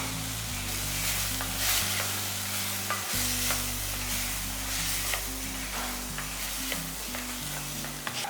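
Soaked moong dal and a pinch of turmeric stirred in a pan for a bottle gourd dal kootu, with steady scraping and light sizzling throughout, close and continuous, no voices.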